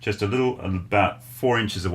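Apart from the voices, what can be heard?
No distinct noise like a dog, phone or traffic.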